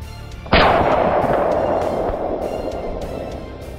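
A single loud rifle shot cracks out on a South African hunt, followed by a long rolling echo that slowly fades across open country.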